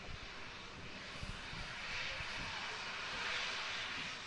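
Jet2 airliner engines at Manchester Airport give a steady, fairly distant broad roar that slowly swells and holds, with no talking over it.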